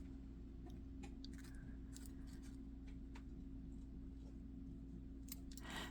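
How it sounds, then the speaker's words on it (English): Scissors snip through folded compostable baking parchment in a few quiet, scattered cuts against a low steady background hum. "We're just going to go ahead and just cut it, and we're going to cut it like a little bigger than that."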